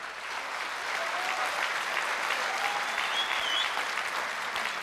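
A studio audience applauds a pop singer, sustained even clapping from a crowd, with a faint voice or whistle-like tone drifting through partway.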